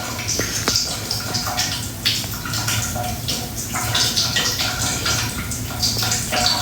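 Water runs steadily from a tap with a continuous splashing hiss, fairly loud and close, with faint drips and some background noise.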